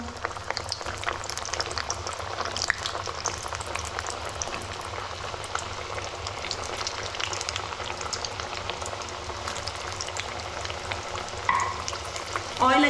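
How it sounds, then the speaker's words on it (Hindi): Potato wheels fry in hot oil in a home kitchen, giving a loud, continuous bubbling sizzle with dense crackle that holds steady throughout, while a voice talks quietly underneath. "तो शुरू करते हैं इनको फ्राई करना।"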